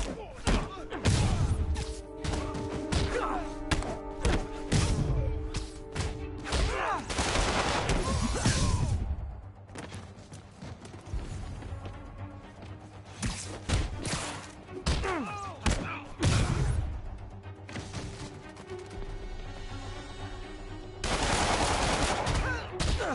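Gunfire crackles through a fight in the video game Marvel's Spider-Man, with bursts of rapid shots, thuds and impacts recurring loudly across the scene and voices breaking in between.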